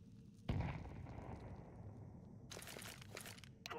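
A grenade detonates in Counter-Strike 2 with a sudden loud blast, followed by a long crackling, rumbling tail and a burst of brighter debris-like crackle near the end.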